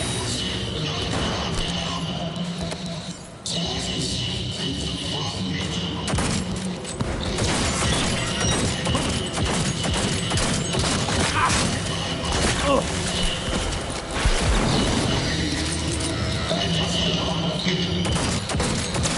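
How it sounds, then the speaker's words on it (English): Shotgun blasts and grenade explosions from Cyberpunk 2077: Phantom Liberty, a dense, continuous barrage of booms, crashes and impacts layered over game music and effects, loud throughout with no pauses. "Using a shotgun! Watch out for grenades!"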